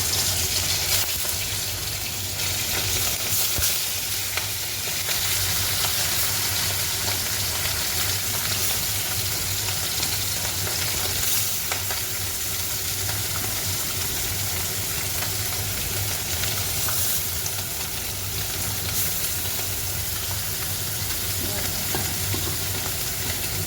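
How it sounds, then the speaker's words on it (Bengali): Small mola fish frying in hot oil with cumin seeds in a pan, giving a continuous close, loud sizzle with some bubbling and occasional stirring and scraping throughout. "মৌলা মাছগুলো এবারে ভাজা দিই।"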